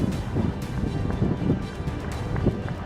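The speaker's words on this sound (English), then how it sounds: "That gust really said, let's see how well you balance, and the sailboat almost accepted the challenge." A strong gust of wind batters a sailboat and heels it over, roaring with heavy microphone buffeting and rushing water for the whole stretch.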